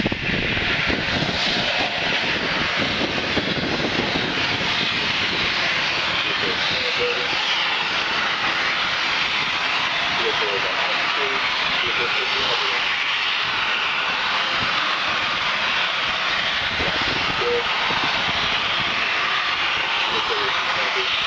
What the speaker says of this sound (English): Vehicle is continuing to descend.